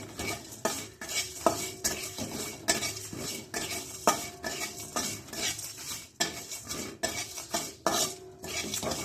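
Sesame seeds, coriander and cumin dry-frying in a pan on a gas stove, with repeated metal spoon stirs and scrapes against the pan in an uneven rhythm over faint sizzling, close and alone.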